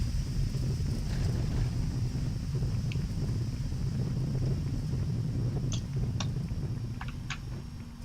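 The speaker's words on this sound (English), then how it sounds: "Get our reversers in." A Boeing 767-300 uses its thrust reversers on landing in X-Plane 10, a loud, steady low engine rumble and roar with a few faint clicks, slowly easing toward the end.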